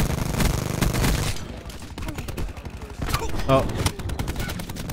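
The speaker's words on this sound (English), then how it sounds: "I ran into the open and got shot at." Rapid automatic gunfire fills a Call of Duty: Black Ops 4 match, with dense bursts of loud shots, brief lulls and renewed volleys, while a voice briefly reacts over the shooting.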